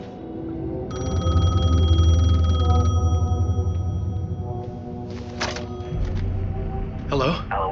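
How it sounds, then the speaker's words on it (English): A payphone rings in the video game Alan Wake 2: a bright electronic trill lasting a couple of seconds over a low ambient drone, followed by softer clicks and shuffling. "The payphone was ringing."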